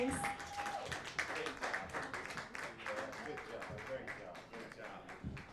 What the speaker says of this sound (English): Another round of applause for Miss Anuska Miller, the Croatian sensation